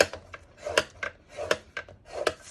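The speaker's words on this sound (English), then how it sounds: "Just take it and score it at 1/2 inch all the way across the long side." A Simply Scored scoring tool scores paper at half-inch intervals across the long side, giving repeated short dry rasping strokes in an uneven rhythm, close and fairly quiet, with no talk.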